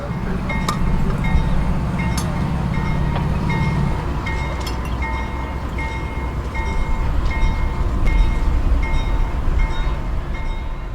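A diesel locomotive backs down onto a juice train, rumbling and clanking steadily with a low diesel drone, metallic squeaks and clicks, and a brief high tone near the start.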